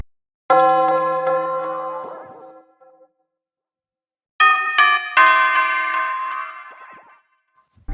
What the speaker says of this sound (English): This is how the bell sounds.